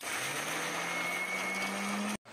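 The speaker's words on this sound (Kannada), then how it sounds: "ಒಂದಿನ ಮಾತೈಕ್ಲ ಮಿಕ್ಸಿ ಜಾರಗ ಪಾಡ್ದು ನೀರು ಪಾಡ್ದು ಕಡೆಗ." Mixie grinding Udupi-style chutney with water and a piece of ginger: a steady, loud whirring motor drone that runs continuously, then cuts off abruptly near the end.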